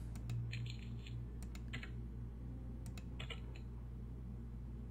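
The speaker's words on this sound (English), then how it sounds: "I probably shouldn't keep clicking this" Computer mouse clicks from playing the puzzle game Cube Escape: The Lake come in small scattered bursts of sharp taps over a low steady hum, close and fairly quiet with no speech.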